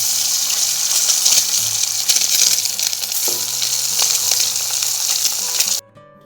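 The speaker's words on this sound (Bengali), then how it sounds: "এই যে আমি ডিমগুলোকে ভেজে নিচ্ছি।" Eggs fry in a pan with a loud, continuous sizzle and crackle close up, broken by brief stirring scrapes. The sound cuts off abruptly near the end.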